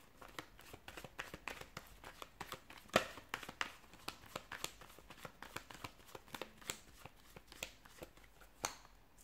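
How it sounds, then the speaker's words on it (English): Tarot cards being shuffled by hand, a quiet, close run of irregular papery riffles, slaps and soft crinkles continuing for several seconds with no talk. "give the cards a shuffle and begin"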